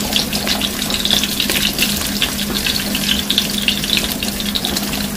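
Onions for gravy sizzle and fry loudly in a pan, a dense, steady hiss with crackling bursts that holds close and constant throughout, with no talking.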